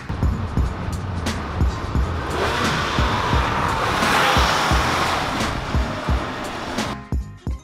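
Porsche 911 GT3 RS, a hardcore track-focused car with a roll cage, driving along with steady engine and road roar, a rise in rumble midway, and sustained broadband noise throughout with no talking.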